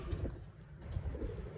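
Soft, low cooing from a Sualkoti breeder pigeon sounds in a few murmuring pulses, close and steady against a hum of background noise, with no one talking.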